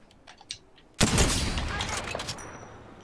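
Gunfire in the video game Apex Legends erupts suddenly and loud after a quiet stretch, a dense sustained volley that rolls on and slowly fades.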